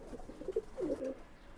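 A pair of Pakistani Suha breed pigeons coo softly nearby, giving a few low murmuring coos in short bursts against a quiet background.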